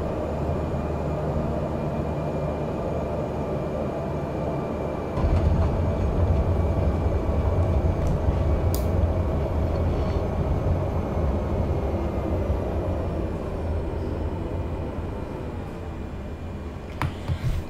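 An airliner's engines in Microsoft Flight Simulator drone steadily during a midair reverse-thrust move on a landing challenge at Ísafjörður, swelling into a louder, rougher low roar partway through and holding it.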